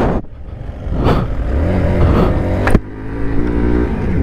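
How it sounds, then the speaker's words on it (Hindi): A motorbike engine is pushed at full power up a steep high-altitude road in North Sikkim. It gives a steady, loud, close revving drone with a brief surge near the end. "फुल पावर दे रहा हूँ बाइक को"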